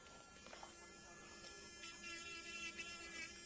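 An electric nail drill spins a pink diamond barrel bit at 20,000 RPM, a thin steady whine and hum held at an even level throughout, with faint scraping as it works the nail.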